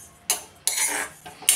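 Fennel seeds dropped into a hot iron kadai over a low gas flame give three quick, close rattling bursts as they hit and skitter across the metal.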